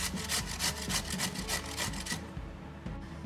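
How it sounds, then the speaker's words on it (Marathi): Snake gourd is grated quickly on a hand grater, close rhythmic rasping strokes about four per second that stop abruptly near the end, with no speech. "आता सगळं पडवळ मी किसून घेते, भराभरा किसलं जातं।"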